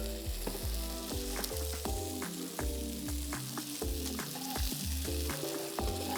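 Chorizo sizzles and fries steadily in a pan, a constant close crackle with scattered pops and the scrape of stirring or turning. No one speaks.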